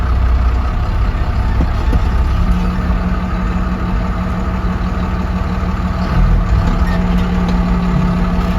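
A truck engine creeping along in low gear, a steady, loud rumbling drone that continues without a break and holds an even pitch, with no voices.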